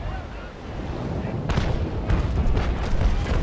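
Ship's cannons firing round shot in the naval battle game Naval Action, loud heavy booms with a rumbling roar that builds and rolls over several seconds.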